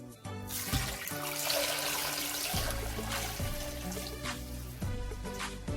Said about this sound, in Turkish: ve üzerine 1 litre kadar sıcak suyunu ilave edelim.